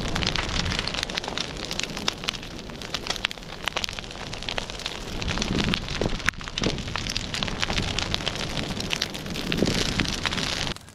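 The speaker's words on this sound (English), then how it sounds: "So it's slowly catching fire." Large outdoor brush pile of old fence-row brush burning, a dense continuous crackle and hiss with scattered sharp pops, steady and fairly loud throughout, with wind buffeting the microphone.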